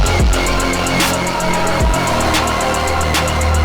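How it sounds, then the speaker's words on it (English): Punchy kick and snare hits smack through a dense, loud electronic mix, with a steady rhythmic pattern and bright ticking highs throughout. "part of that sound is a kick and snare just smacking through the mix"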